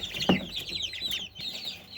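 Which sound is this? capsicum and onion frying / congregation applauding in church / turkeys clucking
turkeys clucking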